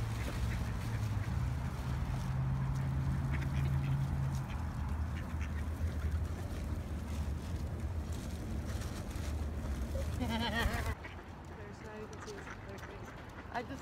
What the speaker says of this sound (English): so we are here about to feed the ducks